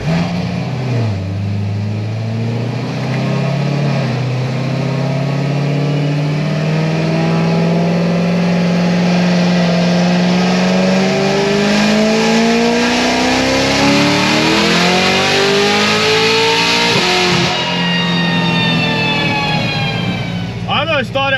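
A 1000-horsepower C7 Corvette Z06 accelerates hard through the gears, its engine note climbing steadily, dropping briefly at an automatic upshift, then climbing again, loud and close throughout with a person talking over the engine.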